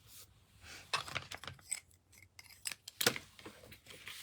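Scissors snip excess paper off a handmade card, a series of quiet, close crisp cuts and rustles, with a couple of sharper snips amid soft handling noise.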